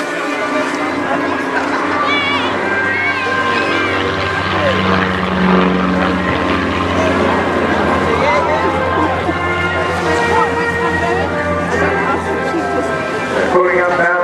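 An aerobatic propeller plane at the Torbay Airshow pulls up into a stall turn, its engine droning and shifting in pitch at a distance while a commentator talks over it through a loudspeaker.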